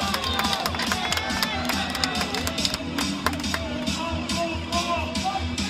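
Spectators cheer and clap for a firefighter tower race at Spruce Meadows, a steady, dense crowd roar with scattered claps and shouts running throughout the whole stretch.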